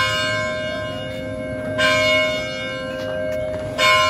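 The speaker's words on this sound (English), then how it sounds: "Malapit na mag-bell." Carillon bells ring out from the UP Diliman bell tower, sustained ringing tones with several louder struck chimes that swell and decay, heard alone without talk.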